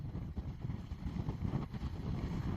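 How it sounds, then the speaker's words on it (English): Steady wind buffeting an outdoor microphone on Tenerife, a continuous low rumbling roar with gusty swells throughout, with no voice over it. "Joe, from a very windy Tenerife here"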